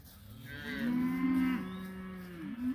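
A cow moos in a long, loud, drawn-out bellow that bends in pitch near the end, with a fainter bawl following, at a cattle pasture with a newborn dark calf out of a Black Angus cow.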